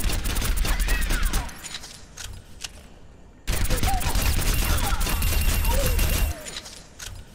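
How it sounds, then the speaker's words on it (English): A heavy pulse rifle in Overwatch fires rapid automatic bursts at a training bot, loud and close, with a short pause between two long volleys. "Aim at your training bot, then fire your rifle."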